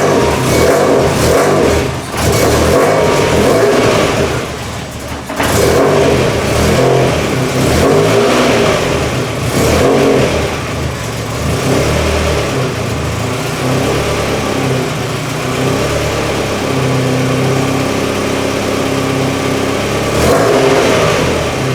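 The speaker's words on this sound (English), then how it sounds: "So let me show you how this car actually runs real quick" A Mazda Miata's engine turns over and catches, then revs repeatedly in loud, close bursts over a rough idle, with the throttle swelling and falling throughout.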